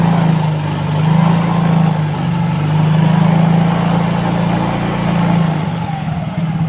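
A Yamaha Mio J motor scooter engine idles close by with a steady, smooth hum, its pitch rising and falling in a few gentle revs.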